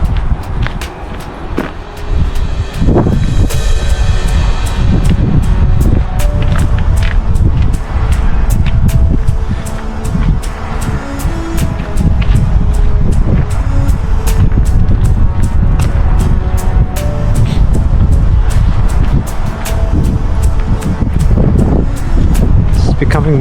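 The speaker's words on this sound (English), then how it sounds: "It's becoming windier and colder at the same time." Wind gusts over a street in Higher Blackley, Manchester, producing a constant low rumble and buffeting against the microphone throughout, with faint traffic and footsteps underneath and someone talking over it at times.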